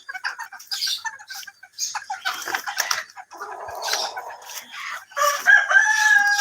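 Chickens on a poultry farm cluck and squawk in scattered close bursts, and a rooster crows loudly near the end, with short gaps of quiet between calls.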